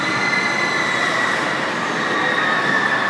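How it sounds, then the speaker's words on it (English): An indoor roller coaster inside a Dubai mall arcade roars past with loud rumbling wheels and a high metallic squeal from the track, a continuous rushing sound that fills the space. "There is a roller coaster in here."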